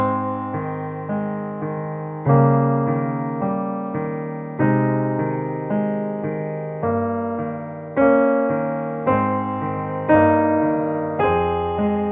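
A piano plays a steady run of rippling sixteenth-note figures over sustained bass notes, with fresh chords struck every couple of seconds, calm and continuous.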